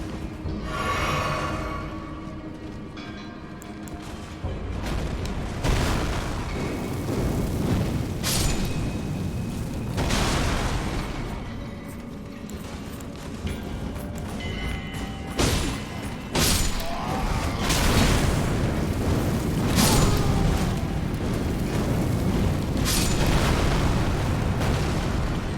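Repeated booming explosions in Elden Ring, set in a mine with a character carrying flammable explosives, bursting loudly over a dense, rumbling game soundscape with no one speaking.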